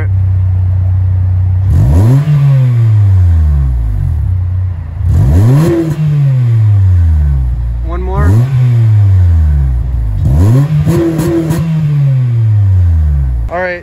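A modified Spoon 2006 Acura TSX engine revs hard in a series of rising pulls with shifts between them, loud and close from inside the car, and a voice is faintly heard over it.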